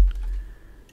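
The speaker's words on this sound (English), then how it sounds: "right now I'm just typing in the file path for the image" Keys clicking on a computer keyboard as a file path is typed, a short close burst of light taps.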